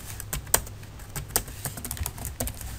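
Typing of PHP code on a computer keyboard, an uneven run of crisp close key clicks with short pauses, over a low steady hum and no speech.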